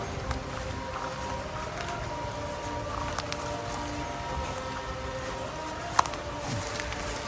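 Steady rain falls at a temple in Thanjavur or Kumbakonam, a soft continuous patter with occasional faint knocks and no clear voices.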